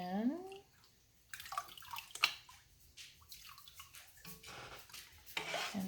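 Cream of tartar mixture poured into a pot of natural dye water for yarn and stirred, giving a short pour and splash followed by sloshing, clinking and swirling water, close and moderately quiet.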